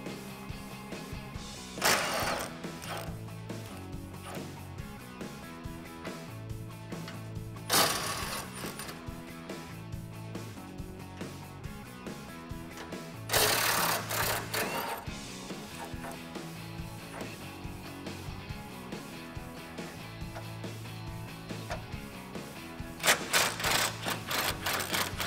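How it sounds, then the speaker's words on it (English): A ratchet with an 18 mm socket removes the front bumper bolts from a 2014-2015 Silverado, heard as a few short bursts of rapid clicking spaced apart and partly buried in a steady background. "Grab an 18 socket and get these off."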